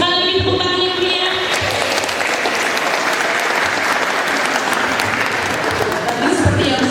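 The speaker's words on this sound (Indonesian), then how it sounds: "kita beri sekali lagi tepuk tangan yang meriah." Lively audience applause at a literacy festival book discussion after a presentation, loud and sustained clapping from a large crowd filling the whole stretch, with faint voices and a few cheers mixed in.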